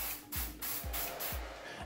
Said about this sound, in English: I'll use my good old Pash airbrush